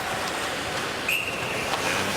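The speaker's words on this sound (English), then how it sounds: "And whistle down for an icing." A referee's whistle sounds once, short and fairly faint, at an NHL hockey game between the New York Rangers and Edmonton Oilers, stopping play for icing beneath steady arena crowd noise.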